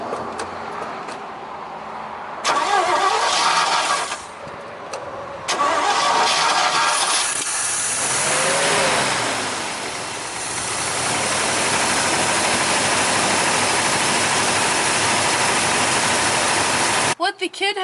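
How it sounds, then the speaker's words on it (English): An old small truck engine cranks and catches, stalls, then restarts and settles into a steady, loud idle close by, with brief talk between attempts. "I'm gonna take this off and then I'm gonna try to start it"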